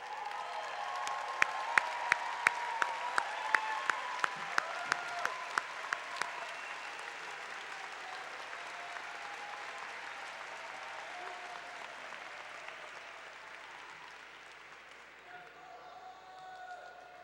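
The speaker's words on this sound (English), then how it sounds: "graduates, you owe them a big round of applause." A large audience at a Cal Poly fall commencement ceremony in 2014 breaks into sustained applause that fills the hall, with a few sharp claps standing out early before the clapping slowly fades near the end.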